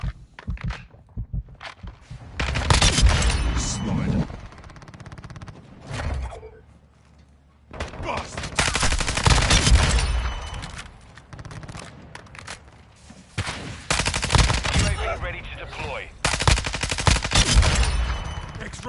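Bursts of automatic gunfire and scattered shots in a PS4 military shooter, loud and close, arriving in several long volleys separated by quieter stretches with occasional clunks and footstep-like sounds.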